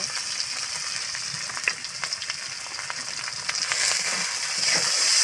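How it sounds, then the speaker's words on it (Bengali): Mung dal with salt and spices sautés in a pan, giving a close, continuous sizzle with scattered stirring clicks that grows slightly louder toward the end. "ডালটা আর মশলার সঙ্গে এইভাবে একটু কষিয়ে নেব"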